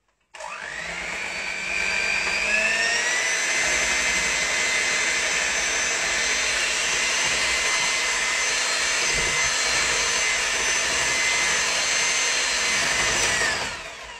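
A home espresso machine's steam wand froths milk for a caramel macchiato, a loud, steady, high hissing roar with a faint whine that starts quickly, holds evenly and cuts off near the end.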